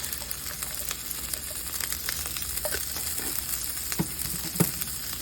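Ground beef with minced onions frying in a pan for lasagna rolls, a dense continuous sizzle up close with a few sharper pops and spatula stirs, no voices.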